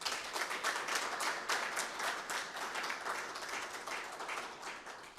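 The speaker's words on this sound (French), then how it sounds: "moi je vous demanderai d'applaudir le gouvernement guinéen" A conference audience at a panel in Conakry applauds the Guinean government, a dense, steady wash of many hands clapping at moderate distance that holds for the whole stretch with no talk over it.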